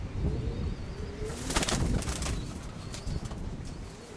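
Steel white-tailed pigeons coo in a breeding loft, a close, dense rumble of overlapping coos with a brief flutter of wings near the middle, no talking.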